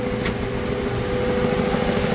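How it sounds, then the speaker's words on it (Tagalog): A Suzuki Ertiga engine with a loss-of-power fault runs at a steady, labored idle close up, a low droning hum with a faint tonal whine and no talking. "Hirap na hirap yung kanyang makina."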